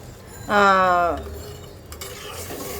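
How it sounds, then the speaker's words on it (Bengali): Gravy water is poured into a pan of spiced pabda fish. It sets off a loud, short hissing squeal lasting about half a second, which settles into a quieter background sizzle with a light clink of utensils. "ঝোলের জলটা দিয়ে দিলাম"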